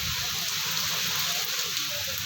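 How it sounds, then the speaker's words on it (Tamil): Steady rain falls outdoors, a dense, even hiss of drops on surfaces that stays loud and unbroken for the whole moment, with no voices. "மழை பெய்யுதுப்பா."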